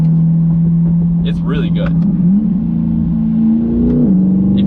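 A C8 Corvette fitted with a Soler Performance throttle body controller accelerates, its engine note droning steadily and rising in pitch near the end, close and fairly loud, with someone speaking over it.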